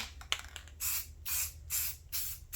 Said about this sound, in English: make sure it's spraying good, and we're gonna start over here